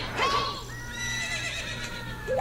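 A horse in the video game The Legend of Zelda: Ocarina of Time gives a clear, close whinny. A second short neigh begins right at the end.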